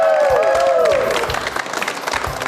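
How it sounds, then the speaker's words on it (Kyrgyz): A studio audience at a televised matchmaking show claps steadily in a dense, loud burst of applause, with a rising musical tone over the opening second. "Кол чабуулар болсун"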